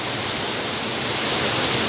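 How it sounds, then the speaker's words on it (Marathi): Waterfall in the Konkan countryside roaring as a steady, dense broadband wash of falling water, continuous and even throughout with no voices. "सुंदर असा निसर्गरम्य धबधबा"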